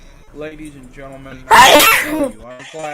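A loud, sudden sneeze bursts out in the middle of a man's speech, close and forceful, and his talking carries on before and after it.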